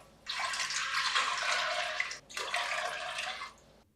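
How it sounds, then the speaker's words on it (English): Five cups of water poured into a large pot for Japanese oden broth, a steady splashing stream that runs for about two seconds, stops briefly, then pours again before cutting off. "add 5 cups of water into a large pot"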